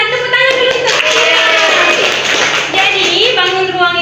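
Classroom applause during a microteaching lesson, several students clapping together briefly as a loud teacher's voice speaks over and around the clapping.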